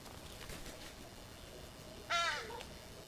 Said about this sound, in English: That little sound there, that was an indoor voice of a crow.